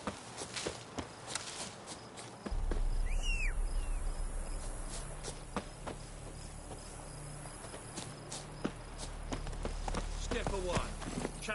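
A horse gallops in the open world of an Assassin's Creed game, steady hoofbeats rising after a short pause and continuing under a bed of chirping crickets and outdoor ambience.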